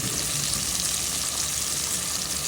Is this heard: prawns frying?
yes